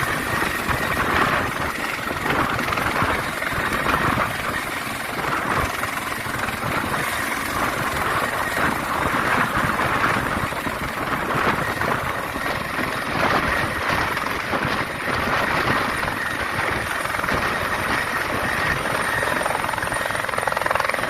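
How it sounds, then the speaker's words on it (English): A helicopter roars steadily and loudly throughout, its rotor thumping in a dense continuous rumble with a constant engine whine, close and unbroken. "This helicopter pilot has to be very precise in order to fill up water in this small pool."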